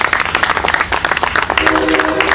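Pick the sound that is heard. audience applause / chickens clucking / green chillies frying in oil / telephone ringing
audience applause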